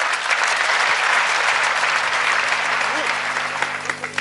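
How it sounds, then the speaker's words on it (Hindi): Steady, dense applause from an audience at a Hindi poetry recital fills the whole stretch, even and sustained with no pause. "एक बार तालियां बजा करके आशीर्वाद कर दीजिए।"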